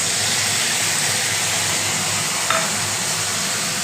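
Tomato chutney with tamarind water being stirred in a pan, a steady close hiss of cooking with one brief scrape of the spoon partway through, and no voices.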